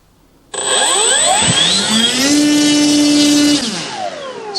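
Electric motor of a Hobbyking MX2 Extreme 3D RC plane being repowered, switching on abruptly and whining up through rising and falling pitches to a steady high scream on a test stand before easing off, loud and close.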